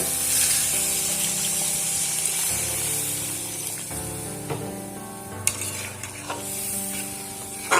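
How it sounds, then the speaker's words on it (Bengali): Spiced potatoes in a pan for aloo dum, with water just added and the pan stirred. A broad hiss and bubbling simmer runs throughout, with a low hum and a few scraping clicks of the spoon against the pan toward the end. "পরিমাণ মতো জল দিয়ে দিলাম একটু নাড়াচাড়া করে দিচ্ছি"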